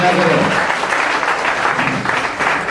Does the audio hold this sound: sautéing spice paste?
no